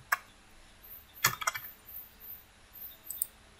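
Sparse keystrokes on a computer keyboard, a few isolated clicks and a short quick burst of taps, quiet and close with no talking.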